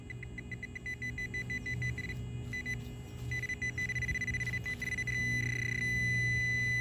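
Outdoors, a handheld metal detector probe gives steady electronic beeping tones that grow stronger and more continuous over several seconds as it closes in on a buried coin.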